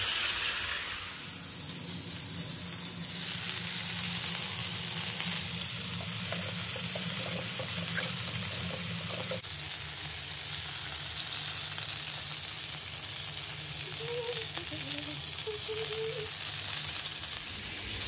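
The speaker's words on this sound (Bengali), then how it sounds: "মাথাগুলো ভাজা হয়ে গেছে, এবার পিসগুলো দিয়ে দিয়েছি" Pieces of hilsa fish fry in a little oil in a pan, giving off a steady, soft sizzle and hiss that continues without a break and with no one talking.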